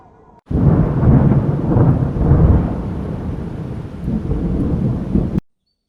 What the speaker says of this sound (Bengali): অবশেষে প্রচণ্ড গর্জন করে ঝড় বৃষ্টি নেমে এলো